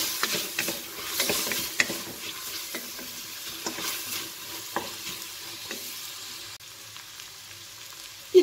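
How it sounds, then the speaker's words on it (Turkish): Peppers sautéing over onion and meat in a pan for a pressure-cooker chickpea and meat stew, a steady soft sizzle broken by scattered utensil scrapes and clicks, fairly quiet and close, with no talking. "Biberlerimi de kavuruyorum."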